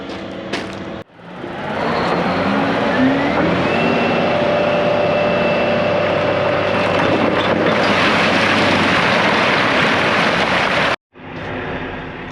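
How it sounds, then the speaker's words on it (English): A Volvo A60H haul truck drives along with a loud, steady engine roar and rising transmission whine heard from the cab, cutting out briefly near the start and again near the end. "We are in the A60 haul truck."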